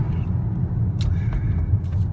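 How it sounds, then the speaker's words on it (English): Steady low engine rumble from a 2014 Ford Mustang Premium V6 convertible, heard from inside the cabin with the top up while driving, continuous and moderate with faint road noise above it. "even with the top up, you still get a little bit of that engine noise"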